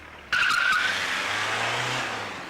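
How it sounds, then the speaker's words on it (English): A car's tyres screech suddenly and loudly through a turn, a sustained shrill squeal with the engine rumbling low underneath, fading slightly toward the end. "Now, whose wheels did the screeching?"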